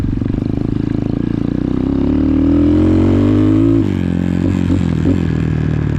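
An X-Pro Titan 250cc dirt bike roars loudly and close at a moto park, its engine droning at steady high revs, then the pitch rises and wavers as it works around a tight loop.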